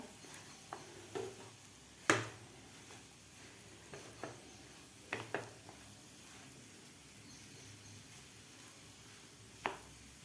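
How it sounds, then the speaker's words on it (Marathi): A potato bhaji mixture with coriander is stirred in a pan with a spoon, faint soft scraping and a few sharp clinks spaced irregularly over a quiet, low sizzle. "आता आपल्याला कोथंबीर घातल्यानंतर व्यवस्थित हे मिक्स करून घ्यायचं आहे"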